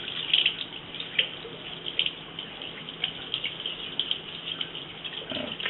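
Tap water runs steadily into a sink as starch is washed off a specimen, with splashing and uneven trickling throughout at close range.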